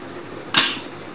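Single sharp clatter of cutlery striking pots and dishes at the sink, close and fairly loud, briefly ringing out before settling back into a quiet background.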